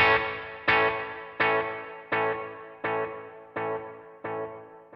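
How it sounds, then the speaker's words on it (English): Guitar delay repeats fed into reverb on a NUX Trident multi-effects unit: one plucked note echoing about seven times at a steady pace, each repeat fading softer with a reverberant tail. "you're hearing all of the delay reflections going through a reverb"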